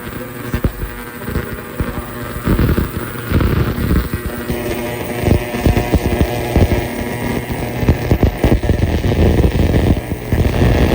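An ultrasonic cleaner filled with airplane fuel runs with a loud, steady throbbing hum and crackling, carrying a high whine above it throughout.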